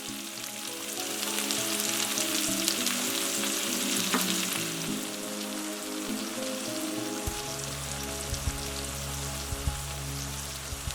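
Courgette rounds fry in a hot pan as their water cooks off, giving a steady, dense sizzle that holds throughout, with a deeper bubbling rumble joining in the latter part.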